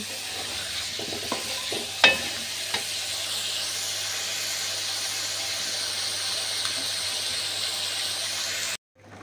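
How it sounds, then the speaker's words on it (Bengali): Potatoes fry with salt, cumin powder and turmeric in a pan, giving a steady sizzle with a few clinks of stirring near the start before the sound cuts off at the end. "আলু কষিয়ে নিচ্ছি, স্বাদ মতো লবণ দিয়েছি।"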